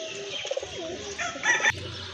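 A pair of white pigeons in a pigeon collection coos nearby, soft rolling coos repeating against a quiet background, with a brief louder burst of calls near the end.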